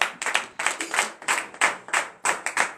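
Rhythmic clapping during a morning Christian prayer, a few hands striking in a quick, regular pattern of sharp claps grouped in bursts, fairly close and without talk.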